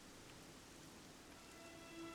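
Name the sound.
rain falling in Dragon Quest 11 video game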